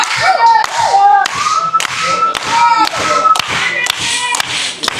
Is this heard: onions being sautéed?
no